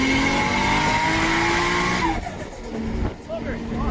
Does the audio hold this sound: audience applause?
no